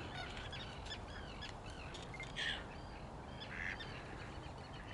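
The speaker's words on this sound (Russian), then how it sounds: "О, утки." Ducks call on the water, two faint, distant honking quacks rising above steady outdoor wind noise, with no talking.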